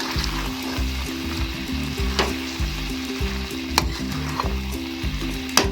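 Chicken liver with green chillies and fresh coriander sizzles loudly in a kadai, the steady frying hiss joined by a low rhythmic hum and occasional sharp stirring scrapes.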